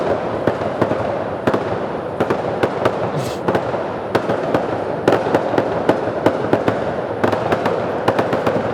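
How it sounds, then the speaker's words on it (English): Rapid bursts of fireworks crackle and bang throughout, sharp repeated reports over a constant rumbling wash of distant explosions, loud and dense from start to finish. "It's obviously fireworks."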